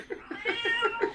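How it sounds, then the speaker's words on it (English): A pet cat meows loudly and repeatedly at close range, a run of about six insistent, wailing calls in quick succession. "But whose kitty is going berserk?"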